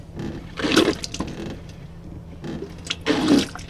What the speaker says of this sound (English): Right now we're just running water off our tank.